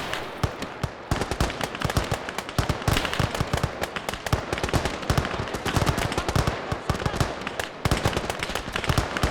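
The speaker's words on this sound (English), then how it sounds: "All this bolt action rifle firing is making it almost sound fully automatic." Dense volleys of bolt action rifle fire crackle through a World War I video game battle between Italian Alpini and Austro-Hungarian troops, shots overlapping so fast they blur into near-automatic fire, loud and continuous.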